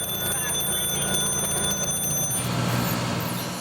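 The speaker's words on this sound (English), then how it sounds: "the lingering deadly fumes continue to trigger alarms outside for minutes after the fire is out" Fire alarms ring outside a building after a fire, a steady high electronic tone that carries on and then cuts out near the end, with a voice talking over it.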